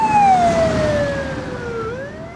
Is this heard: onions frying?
no